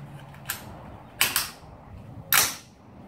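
A 5.56 AR magazine is loaded into a pneumatic AR system test fixture, giving three sharp metallic clicks and clacks spaced about a second apart, close and fairly quiet over a low background hum.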